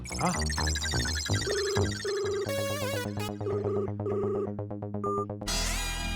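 A melodic electronic ringtone plays over a phone speaker, looping its chiming tune several times before cutting off abruptly near the end.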